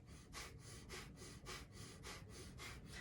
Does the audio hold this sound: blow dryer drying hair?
no